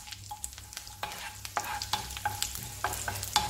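Dry red chillies and fennel frying in sesame oil for Chettinad chicken uppu kari, stirred with quick scraping strokes over a soft sizzle, close but fairly quiet, no voices.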